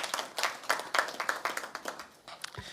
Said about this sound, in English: we should give her a round of applause for her efforts